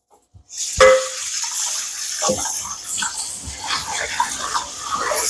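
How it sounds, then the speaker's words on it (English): Running tap water pours steadily as an oil-seasoned pan is rinsed inside and out, a brief clatter near the start, then continuous close splashing and gurgling throughout. "I'm going to rinse both the inside and the outside of it"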